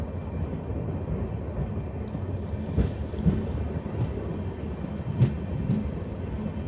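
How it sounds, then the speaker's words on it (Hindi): The Lalkuan–Howrah train rolling along after leaving a forest, a continuous low rumble and rattle of carriages on track with occasional clanks, heard steadily from onboard. "ट्रेन अब जंगल से बाहर निकल चुकी है"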